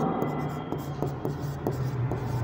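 Marker or chalk writing on a classroom board during a commerce lesson, a series of short scratchy strokes and taps at an uneven pace, close and fairly clear over a faint room hum.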